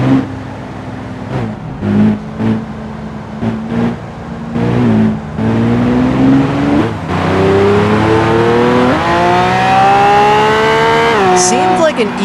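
A Lamborghini races through an Overtake challenge in the BeamNG driving game. Its engine revs up loudly and steadily through several gear changes, each shift briefly dropping the pitch before it climbs again, with a short squeal near the end.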